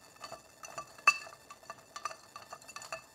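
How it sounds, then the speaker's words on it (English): A bar spoon stirs a cocktail in a glass: faint, soft swirling with light tinkles and one sharper clink partway through, close and quiet. "They not bump it into sides, do it without making clanking noises, almost a silent stirring."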